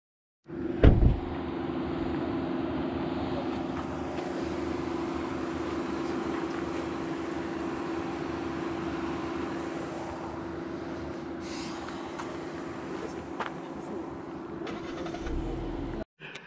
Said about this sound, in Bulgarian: Идва кола.